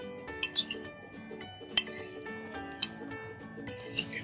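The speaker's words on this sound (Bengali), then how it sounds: "এখন এই মেয়োনিজটা এই চিকেনের সাথে মিশিয়ে নেব।" A spoon clinks sharply against a bowl while mayonnaise is mixed into chicken for chicken shawarma, with four or five distinct taps spread over a quiet, soft background.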